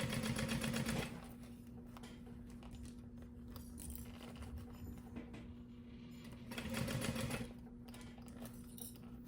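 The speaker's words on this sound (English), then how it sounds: "we're still sewing this at 1/4 inch" A sewing machine stitches a crossbody bag at a 1/4 inch seam: two short, louder bursts of rapid mechanical stitching, at the start and about two-thirds through, with a quiet motor hum between.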